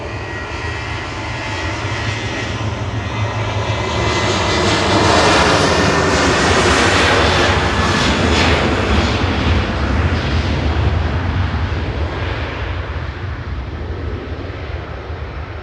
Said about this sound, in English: Next up for departure though is Ryanair heading off to Oslo